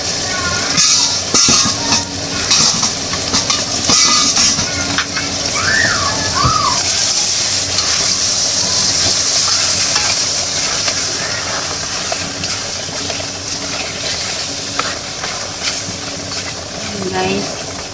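Baby back pork ribs fry in a pan with a constant loud sizzle and hiss, punctuated by crackles and sharp pops, while faint background sounds and occasional voices come and go.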